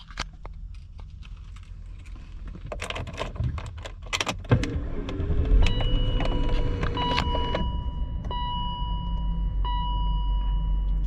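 A 2000 BMW 540i E39 V8 sedan is started with its standard key: clicks and a short crank, then a steady low idle rumble with electronic warning chimes sounding over it.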